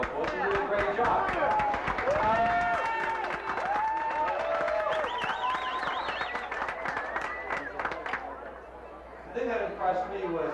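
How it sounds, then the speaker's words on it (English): Audience applause at the 1992 grand opening of the Focus newspaper in Parsippany, sustained clapping mixed with crowd chatter and voices for about ten seconds, fairly loud and steady throughout. "you can give him a round of applause, he did a great job."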